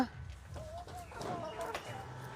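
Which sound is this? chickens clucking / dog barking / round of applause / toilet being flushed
chickens clucking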